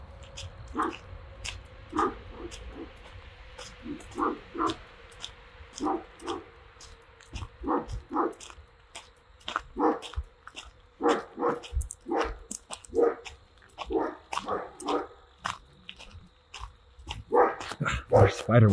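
A farm dog in Salem barks repeatedly and whimpers outside, in a steady run of close, loud yaps with softer whines between them, while someone speaks over part of it.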